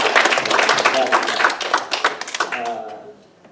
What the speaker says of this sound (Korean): 박수 한번 쳐드립니다